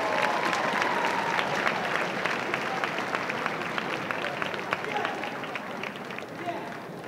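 A school assembly crowd gives the boys' team a sustained round of applause, brisk many-handed clapping with a little voice mixed in, holding steady before easing slightly at the end.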